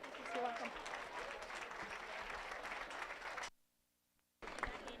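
A crowd applauds 4-H market hog show exhibitors at a county fair, a moderate wash of clapping that cuts out abruptly to near silence before resuming briefly.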